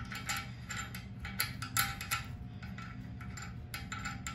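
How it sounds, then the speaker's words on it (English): A wing nut is turned down by hand under a Glacier Bay toilet, giving close, quiet, rapid ratcheting clicks and small metal ticks in irregular bursts, with no talk. "I'm gonna take this wing nut, start throwing it on there, and we're just gonna crank that down."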